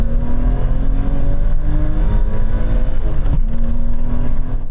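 A BMW M5 accelerates hard in a drag race from a rolling start in second gear, its engine roaring loud and steady as the pitch rises, with a quick gear change partway through.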